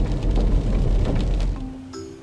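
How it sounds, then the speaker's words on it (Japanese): Rain falls outdoors in a small seaside lodging area in Chiba, a steady dense hiss that fills the scene before trailing off at the end into a faint tone. "残念ながら雨なんでね"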